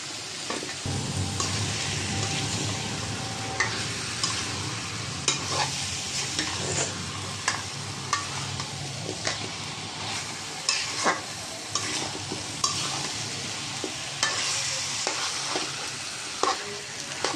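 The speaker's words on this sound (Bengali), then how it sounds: "মাংসটা ভালো করে কষাই নেব। মাংস আর আলু একসাথেই দিয়েছি।" Chicken pieces and potatoes sautéed together with a cooked-down spice paste in a pan for a potato chicken curry: a steady, close oil sizzle with repeated spoon scrapes and knocks against the pan, no talking.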